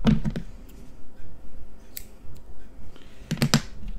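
Scissors snip double-sided scoring tape in a paper craft setup, a few crisp cuts near the start and end with light clicky handling sounds in between.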